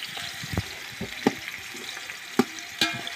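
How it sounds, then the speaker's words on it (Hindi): Village-style biryani ingredients frying in a pot, a faint sizzling bed broken by a few scattered stirring clinks and knocks, with no one talking. "फ्राई करना है इसको अच्छे से।"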